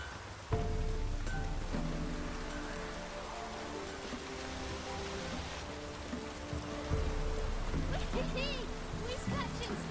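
Steady rain falls in The Witcher 3 video game, a dense, continuous hiss that stays at an even level throughout, with game voices and low tones in the background.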